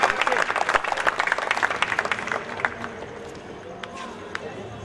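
Crowd at a comedy show clapping for a performer, a loud, busy round of applause for the first couple of seconds that thins into scattered claps and murmuring voices.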